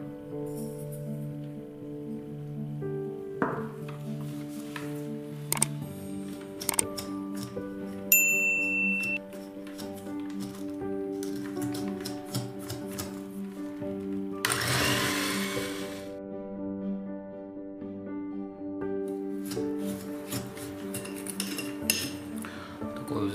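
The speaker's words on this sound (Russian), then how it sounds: "первым делом взбиваем сливочное масло" An electric mixer whips room-temperature butter with sugar for cookie dough, whirring steadily with a tonal hum that shifts in pitch. The beaters clink against the bowl now and then, and one louder burst of noise comes midway.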